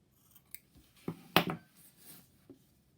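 Scissors snip through yarn for a macrame bracelet or necklace, giving a few sharp, close metallic cuts, with one firm snip standing out in a quiet room.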